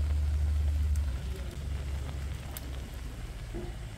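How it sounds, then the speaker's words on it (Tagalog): A strong wood fire burns hard under a pot of boiling taro corms in an outdoor home kitchen, giving a steady low roar with scattered crackles and pops, close and continuous with no talking. "At napakaningas po ng apoy."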